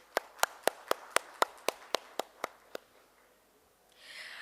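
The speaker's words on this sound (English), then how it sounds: "let us have a huge round of applause for Architects and Interiors India's Design Debate" Evenly spaced, crisp hand claps, about a dozen in a steady rhythm, ring out at an Architects and Interiors India Design Debate event in Ahmedabad, then stop and give way to a faint hiss.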